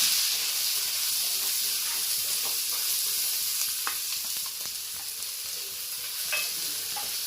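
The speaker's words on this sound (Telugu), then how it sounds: "ఉల్లిపాయలు కూడా మంచి కలర్ వచ్చే వరకు వేపుకోవాలండి" Sliced onions and green chillies frying in hot oil in a pan, a continuous loud sizzling hiss with occasional soft pops and stirring scrapes, steady throughout.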